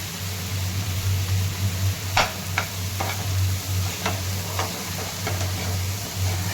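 Pav bhaji masala is stirred into a sizzling pan of bhaji, with a soft continuous frying hiss, sharp ladle taps against the pan, and a steady low appliance hum underneath.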